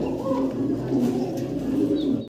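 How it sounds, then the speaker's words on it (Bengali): A pair of Australian doves coos in soft, continuous low warbling phrases, close by and steady, with faint background chatter before the sound cuts off abruptly at the end. "অসাধারণ একটা পাখির জোড়া, ঘুঘু পাখির জোড়া"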